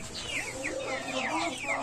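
Rhode Island Red rooster in a backyard farm, giving a quick run of soft, repeated clucks and chirps at low volume.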